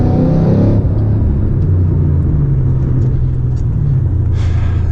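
A Mercedes E55 AMG W211 with an oil-line leak is driven hard and pulled past 4,000 RPM, its engine a loud, close, sustained droning rumble that holds steady throughout with no voices.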